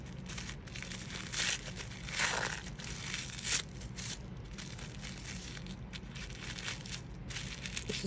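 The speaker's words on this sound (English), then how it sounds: "Just have to start ripping." Wrapping paper and packaging of a secret Santa gift being ripped open, with repeated crinkling, tearing and crunching bursts over several seconds, close and fairly quiet.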